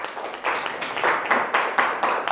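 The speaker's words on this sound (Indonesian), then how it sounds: "Ayo tepuk tangan." Children clap together in a classroom, a close burst of group clapping in a loose rhythmic beat of repeated strikes.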